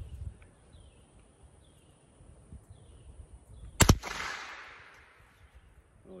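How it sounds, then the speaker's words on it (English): A single sharp shot from a Savage 64 F .22 LR semi-automatic rifle fired at a target beside a pond, a crisp crack with a short decaying tail, alone against quiet outdoor ambience. "I'm shooting that pass-through target right there next to my pond"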